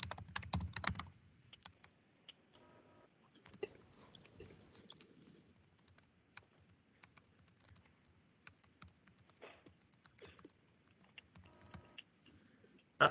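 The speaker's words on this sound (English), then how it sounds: "Just typing great notes." Quiet, irregular clicking of keys on a computer keyboard, steady typing with small pauses, close to the microphone, no talking.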